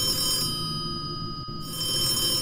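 A telephone bell rings steadily in a 2D horror video game, a continuous bright electronic trill over a faint background hum, with no one speaking.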